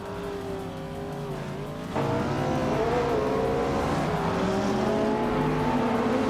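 Roaring engine of a 2006 Saleen S7 Twin Turbo supercar racing in a video game, steady loud revving with a jump in intensity about two seconds in, pitch rising and falling through gear changes, with other cars faintly around it.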